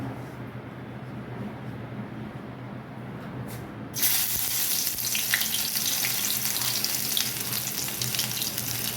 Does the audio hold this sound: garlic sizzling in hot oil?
yes